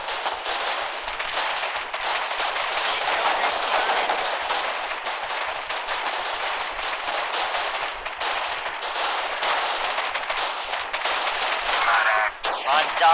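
Gunfire and artillery in a war video game, a dense, continuous barrage of rapid shots and booming blasts that keeps going without a break and stays loud throughout, with no talking over it.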